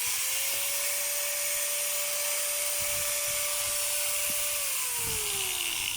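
A Stanley STGS5100 electric tool, faulty so that it runs as soon as it is plugged in with no working on-off switch, hums with a steady high-pitched motor whine that holds constant, then drops in pitch as it slows near the end, close and loud.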